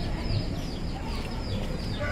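A rooster clucks near a temple at Batu Caves in Malaysia, short throaty calls that are fairly faint against a busy outdoor background hum.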